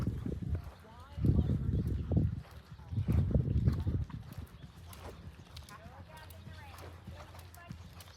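Horse cantering in an eventing lesson, with hoofbeats and movement noise in loud bursts near the start and fading to a steadier lower rumble, while people talk around it.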